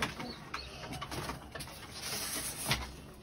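Kayseri pigeons cooing close by amid rustling and fluttering noise, a continuous soft murmur of bird sounds with no talking.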